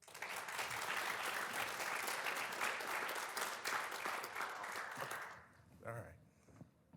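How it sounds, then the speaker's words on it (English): Audience at an awards ceremony applauds warmly, a dense sustained wave of clapping that fades out after about five seconds, leaving a voice speaking. "Please give him a round of applause."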